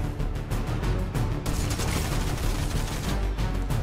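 Loud bursts of SMG fire in Fortnite rattle almost without pause, a brief lull near the middle followed by heavier sustained shooting.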